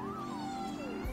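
A pet cat meows insistently for attention indoors, one drawn-out rising and falling call under a steady background hum, fairly close and moderately loud.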